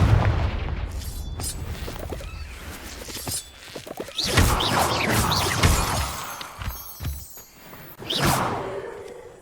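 Confringo fire spell blasts in the video game Hogwarts Legacy, loud booming explosions with whooshing bursts and shattering crashes, several separate hits spread across the stretch with quieter gaps between.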